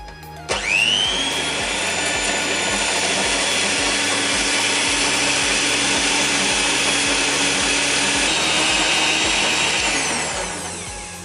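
Electric mixer whipping egg whites with sugar for meringue, a loud, steady motor whine that starts abruptly, holds at an even pitch for about ten seconds, then winds down.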